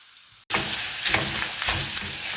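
Beaten eggs scrambled and fried in a pan with a little ground pepper, for children, starting after a short quiet moment with a sudden steady loud sizzle that runs on with faint scraping stirs and no talk.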